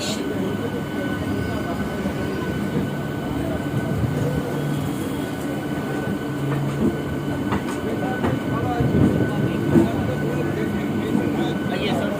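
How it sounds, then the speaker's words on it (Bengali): Continuous low rumble and rattle of a crowded train running from Sheoraphuli to Tarakeswar, steady throughout, with faint voices murmuring underneath and occasional clanks. "ট্রেন এখন ভিড় চলছে"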